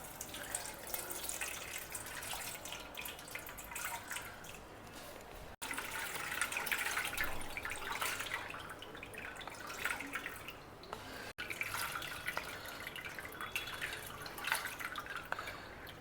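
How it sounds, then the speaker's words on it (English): Unpolished millet is rubbed and rinsed by hand in water, giving continuous close splashing, dripping and trickling with a tap-like running-water wash throughout. "we will wash the millet 3 or 4 times very well"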